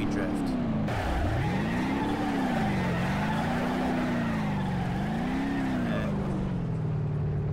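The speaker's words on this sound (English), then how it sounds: "And we are going to do a sweet drift." Engine roar of a car drifting in BeamNG.drive, a steady loud tone that dips and swells as the revs rise and fall through the slide, with a voice talking over it.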